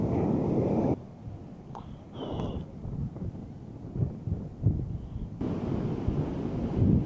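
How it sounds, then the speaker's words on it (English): Strong wind at a surf-fishing beach buffets the microphone with a low, gusty roar that rises and falls, briefly dropping in level before surging back. "Wind is pretty high right now."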